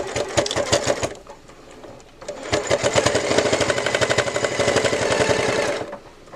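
Sewing machine stitching down a quilted patchwork bow, a loud close rapid needle chatter in two runs, a short burst, a pause, then a longer steady stretch that stops abruptly.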